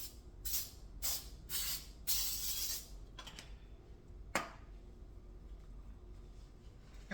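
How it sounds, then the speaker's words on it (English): Cooking spray hisses into a casserole dish in several short close bursts, four or five quick blasts, then a single sharp spurt after a pause, with a faint clink of the dish between. "We're going to spray our dish."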